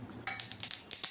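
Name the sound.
flax seeds crackling while dry-roasting in a pan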